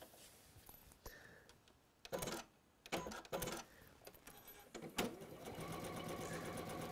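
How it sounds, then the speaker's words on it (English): Sewing machine stitching along a pressed line, starting with a few stop-and-go bursts before settling into a steady, continuous whirring hum, close and moderately loud. "then we're going to stitch again on that line"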